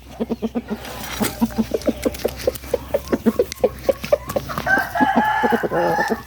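A young rooster crows loudly and nearby against a backdrop of rapid, rhythmic clucking and chattering from other fowl.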